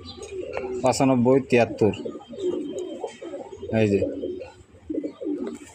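Budapest racing pigeons cooing, soft repeated coos mixed with someone speaking close by, the calls and talk overlapping throughout.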